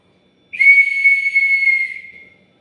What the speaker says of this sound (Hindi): देखिए इसमें एक कंचा पड़ा, एक बॉल पड़ी रहती है, उससे इसमें आवाज़ आएगी